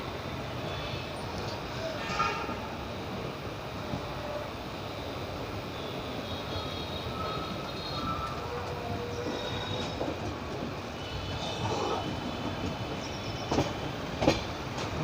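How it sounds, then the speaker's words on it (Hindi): A Howrah–Sainagar express train enters a station, with a steady rumble of rolling wheels and carriages throughout, occasional squeals and clanks, and faint voices in the background. "हमारा ट्रेन है, देख सकत हो स्टेशन में एंटर होते।"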